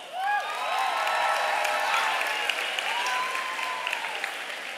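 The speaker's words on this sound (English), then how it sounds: "Now can you please give a round of applause for this year's flag judge, Coach Kendall." Audience applause at a school Scholar Bowl trivia competition, a steady dense wash of clapping for the whole stretch with a few cheers rising over it near the start.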